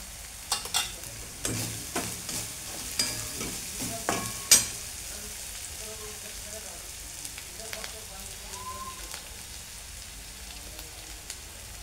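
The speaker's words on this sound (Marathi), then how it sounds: "मिरची चांगली परतून घ्यायची" Green chillies sautéing in ghee with a continuous crackling sizzle. Several sharp spoon-against-pan stirring knocks come in the first half, then the frying continues more quietly.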